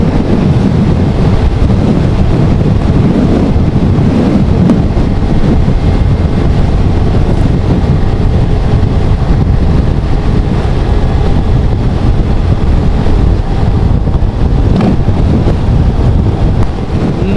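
Strong wind roars and buffets the microphone without a break while riding a motorcycle at speed on the road to Dhanushkodi near Rameswaram, sea on both sides, a steady loud rush covering everything else.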